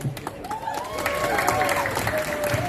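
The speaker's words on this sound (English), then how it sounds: "Give him applause." A crowd at a campaign gathering in Scotland applauds a speaker, with scattered clapping and cheering, a steady wash of noise that swells and holds, with a tonal whine running through it.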